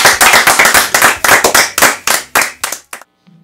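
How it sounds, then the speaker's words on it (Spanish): A small live-session audience claps for the band, brisk close handclaps that trail off into silence after about three seconds. "Un fuerte aplauso para ellos, por favor."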